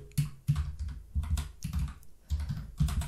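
Computer keyboard keys clatter in quick bursts of typing while entering a SAS macro, with brief pauses between runs of keystrokes, close and clear with no talking.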